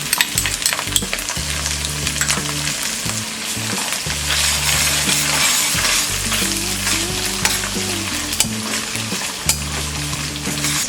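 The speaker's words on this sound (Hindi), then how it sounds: "इसे 2 मिनट तक फ्राई करेंगे।" Crushed garlic, ginger and green chilies fry in a pan while being stirred for a bread roll filling, a loud continuous sizzle with repeated scraping and clinking stirring strokes, close up and without talk.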